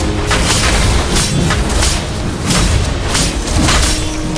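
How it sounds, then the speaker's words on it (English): Turret destroyed in Mobile Legends, a run of loud, heavy booming thuds repeating in quick succession, close and dense, with no talking over it. "Your team destroyed a turret"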